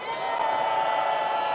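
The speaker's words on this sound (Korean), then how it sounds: "안영석 조직국장님께 다시 한번 뜨거운 박수 주십시오" Applause and cheering from a crowd at an outdoor rally of taxi workers, a dense steady wash of clapping with scattered whoops held at an even level throughout.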